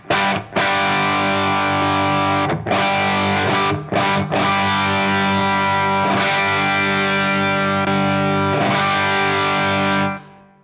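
Electric guitar through a RedSeven Alkemy Overdrive pedal set to Normal mode, playing loud, sustained distorted chords with a few short breaks between strums, then ringing out and cutting off near the end.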